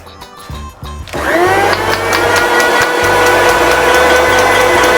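An electric mixer grinder loaded with dates starts up after a few quiet knocks and runs loud and strained, its steady whine wavering as the blades labour through the sticky fruit.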